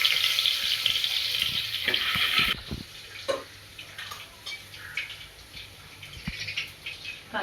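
Garlic frying in hot oil with mustard and cumin seeds, an intense crackling hiss at first that suddenly drops to a quieter, scattered sputter with occasional pops and taps.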